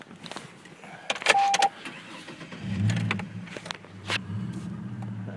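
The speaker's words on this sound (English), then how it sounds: "Let me start it up so you guys can see the inside and hear it." A 2004 Chevrolet Trailblazer with about 216,000 miles: clicks and a brief whir of the starter, then the engine catches and settles into a low, steady idle, close by and without speech.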